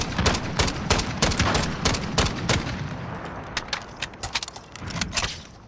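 Rapid bursts of gunfire from the video game Call of Duty: Modern Warfare crackle in dense, loud volleys that thin into scattered shots, with no talking.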